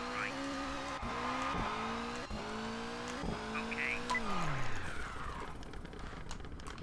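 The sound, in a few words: rally car sliding in rain, video game Colin McRae Rally 2.0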